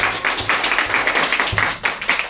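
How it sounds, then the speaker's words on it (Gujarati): Schoolchildren applaud themselves in a classroom, a dense, steady burst of many small hands clapping together for about two seconds, close and fairly loud. "તમારા પોતાના માટે તાળી પાડો પહેલા"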